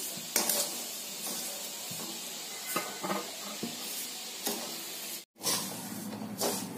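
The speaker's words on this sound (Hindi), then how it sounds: "सिवई सिर्फ इतनी ही भूननी है जितना ये घी को सिवई सोख ले" Vermicelli roasting in ghee in a pan for Lucknow-style qiwami sewai, with steady low sizzling under repeated scraping and clinking stir strokes from a spoon against the metal, and a brief silent gap near the end.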